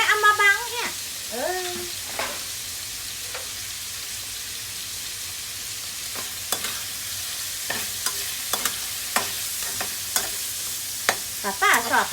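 Cabbage and pork belly stir-fried in a home-style pan, a steady close sizzle broken by repeated sharp scrapes and clacks of a spatula, with a voice speaking briefly near the start.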